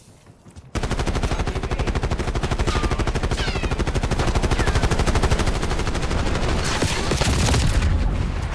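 Sustained automatic gunfire in Call of Duty: Black Ops 6 erupts abruptly after a brief quiet moment and continues as a loud, rapid, steady rattle, with extra bursts layered near the end.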